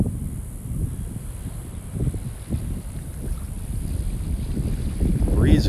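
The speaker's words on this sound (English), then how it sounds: "Breezy out here this morning." Steady wind blowing over a beach on a breezy morning in North Naples, Florida, a continuous low rumble buffeting the microphone and growing stronger toward the end, with faint surf underneath.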